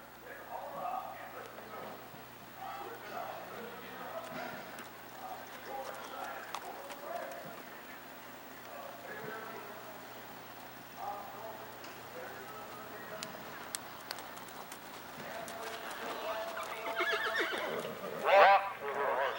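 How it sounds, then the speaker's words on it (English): Horses moving around the arena at a horse show, hooves clip-clopping faintly in the distance with occasional whinnies, under a loudspeaker announcer and general crowd murmur. "Trot your horses, please."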